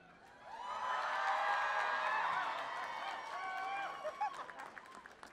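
A concert crowd at the Van Buren in Phoenix cheering and applauding: a loud swell of whoops and screams rising quickly, holding, then thinning into scattered claps and shouts near the end.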